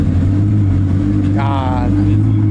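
A Lamborghini Gallardo Performante at a supercar show outside a local bar, its engine running with a steady low drone and a short rising rev midway, close and loud.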